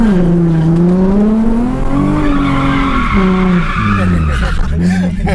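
Car tires spinning hard in a burnout, a loud continuous squealing screech with the engine revving underneath, steady and close for the whole stretch, while people talk over it.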